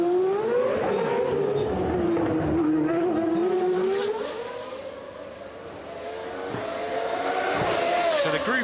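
Formula 2 race cars lapping during qualifying at the Monaco street circuit, a loud, high engine whine that rises and falls in pitch as cars pass close by, with the sound dipping briefly before surging again.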